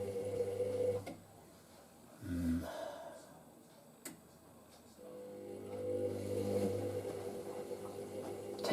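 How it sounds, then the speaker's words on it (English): A new washing machine's motor hums steadily at close range, with a brief break and a short knock partway through before the steady drone resumes. "Oh, I love the sound of that motor."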